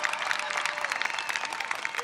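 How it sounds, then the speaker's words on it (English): Audience applause at a Maryland governor's inauguration ceremony, honoring the singer of the national anthem; a steady wash of clapping from a large crowd, moderately loud and sustained throughout. "how about a round of applause for James Moore, leading us in the national anthem"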